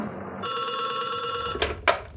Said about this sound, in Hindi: मिसेस इदरीस आपका फोन है।